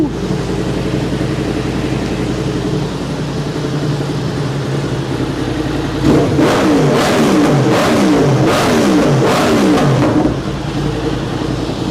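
A 2022 Yamaha R1M sport bike fitted with an Akrapovic exhaust idles steadily, then blips its throttle in a series of about five sharp, loud revs that rise and fall before settling back to idle, close by with no talk.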